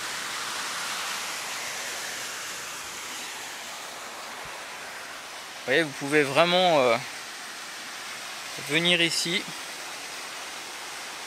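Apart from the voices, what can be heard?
river rapids and small waterfall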